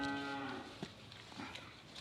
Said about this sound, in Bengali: বকনা বাছুর।